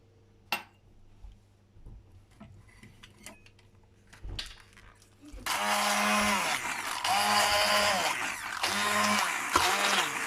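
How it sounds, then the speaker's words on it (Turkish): A blender purees spinach with a cup of oil for a green cake batter. A few clinks come first, then the motor starts loud at about five seconds and whirs on with pulsing surges. "Bir bardak ıspanağımızın üzerine bir çay bardağı sıvı yağımızı döküp sonra blenderımızdan geçireceğiz."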